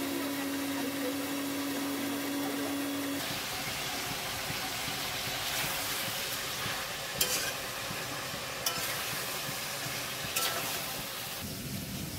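Potatoes fry in a pan with a continuous sizzle, joined by stirring scrapes and a few sharp utensil clinks at close range, with no talking.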